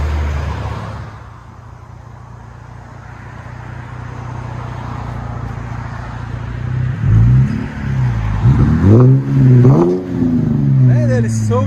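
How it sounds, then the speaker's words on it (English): A Cadillac CTS with a 3.6L V6, rear muffler delete and 4-inch tips, settles at a low idle before several deep, close revs swell and fall back toward the end. "Rear muffler delete, 4-inch tips."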